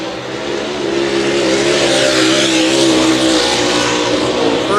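MLRA late model race car on a qualifying lap at Davenport, its engine roaring loud and close, pitch climbing and holding in a sustained high-revving drone.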